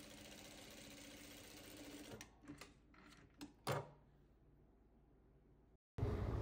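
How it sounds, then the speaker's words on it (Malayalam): A sewing machine stitching a child's frock, a steady whirring run that stops after about two seconds, followed by a few sharp clicks and knocks of the mechanism, close and without talk. "നമുക്കിതിനി എല്ലാം കൂടെ സ്റ്റിച്ച് ചെയ്യാം കേട്ടോ."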